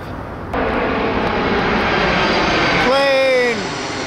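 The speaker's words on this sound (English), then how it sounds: "Plane!" An airplane passes overhead, a loud, steady engine roar that swells and holds, then a brief shout near the end as it fades.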